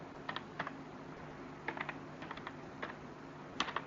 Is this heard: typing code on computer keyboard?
yes